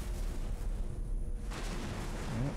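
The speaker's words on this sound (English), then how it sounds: "There's still quite a few explosions going on." Explosions boom in the space game X4 Foundations as a continuous low rumble of distant blasts, with a denser burst rising midway and a whooshing sweep near the end, heard alone without talk.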